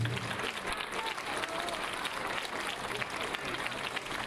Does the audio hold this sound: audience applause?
yes